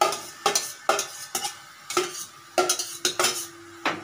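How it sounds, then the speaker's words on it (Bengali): Boiled banana flower being stirred in a pan for a Bengali ghonto, a metal spatula knocking and scraping against the pan in quick rhythmic strokes over a soft sizzle, close and clear with no voices. "মোচাটা দিচ্ছি আমি।"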